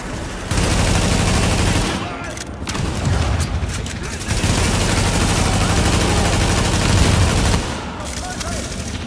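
Sustained heavy gunfire in the shooter Tom Clancy's The Division, dense automatic bursts and booms continuing almost without pause, loud and close, with voices talking over the fight.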